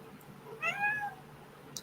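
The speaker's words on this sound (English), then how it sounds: "look at my black cat with me" A black cat gives a single short meow, fairly close and moderately soft, against a quiet indoor background with a faint hum.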